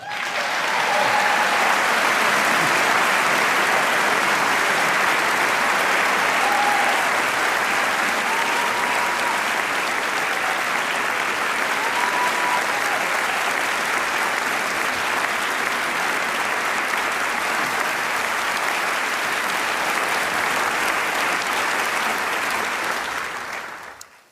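Sustained applause from a large audience welcoming playwright Tom Stoppard to a conversation event, a dense steady roar of clapping that lasts over twenty seconds before fading out at the end.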